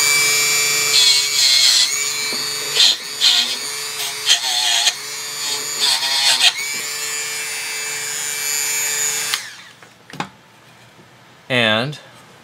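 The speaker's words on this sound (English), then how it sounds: "I just hold it and I go back to my Dremel tool." A Dremel rotary tool whines steadily while cleaning rust from the threads of clock case screws, running loud and continuous for about nine seconds, then cutting out, with a few brief bursts after.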